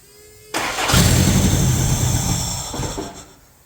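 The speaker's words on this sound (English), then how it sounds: "crank it over with the starter and the fuel system I've got going in here and see if I can't make this thing run for at least a minute" A fuel-injected Toyota 22RE engine in a 1994 pickup cranks on the starter, catches abruptly and keeps running with a loud, close, steady idle that fades slightly toward the end.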